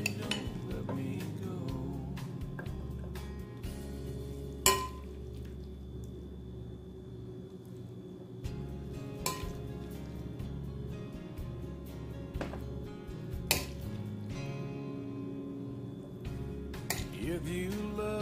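A high-protein salad gets mixed in a bowl, with repeated clinks and scrapes of utensils against the dish over a low steady rumble, close-up and without talk.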